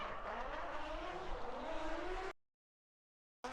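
Race car at full throttle through a crossover-layout final round, engine screaming at high revs with a rising pitch and tire noise, loud and close for about two seconds before cutting to silence, then returning briefly.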